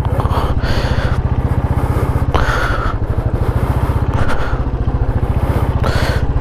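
A Royal Enfield Classic 350 single-cylinder engine stuck in snow throbs loudly and close with a steady thumping idle and rising revs, as people shout over it.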